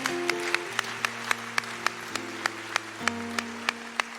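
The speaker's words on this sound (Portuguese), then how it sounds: "Vamos aplaudir ao Senhor." A church congregation claps along in steady rhythm to praise the Lord. The sharp, evenly spaced claps sit over sustained, shifting keyboard chords, with no speech.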